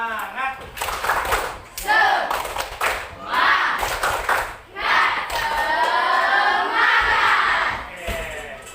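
A classroom group performs the rhythmic 'tepuk semangat' clap chant, bursts of hand claps in patterned beats mixed with loud shouted voices from many students.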